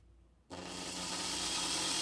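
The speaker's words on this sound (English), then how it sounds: "As you can see, while the drill bit is turning, the head of the rivet is also spinning." A harsh, steady grinding whir starts abruptly after a brief quiet moment and continues loudly without pause as a drill bit bores out a metal rivet on a 1973 Matchbox toy car.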